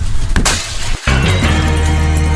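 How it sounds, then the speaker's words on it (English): A box is smashed with a loud, sudden crunching break, followed by a harsh, sustained rattling roar close by. "Box gets smashed."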